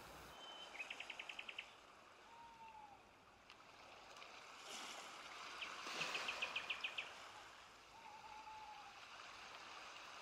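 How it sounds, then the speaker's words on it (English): Night birds call in short chirping bursts and a few thin whistles over a steady backdrop of gentle water wash. "Nightbirds."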